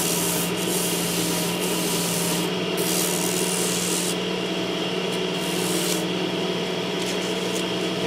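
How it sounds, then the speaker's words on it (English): Sandpaper wrapped over a sponge rubs steadily across a wooden top, a dense continuous scratchy hiss that stays loud and even throughout with brief lighter strokes mixed in. "You can also take sandpaper and put it on top of the sponge to help get it into the spots"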